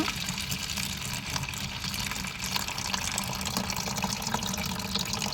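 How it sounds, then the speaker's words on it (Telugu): Water pours and splashes continuously into a container, a steady gushing stream for several seconds. "ఇప్పుడు ఈ వాటర్ అంతా మనం ఇంత డొక్కులో వేసుకుందాము"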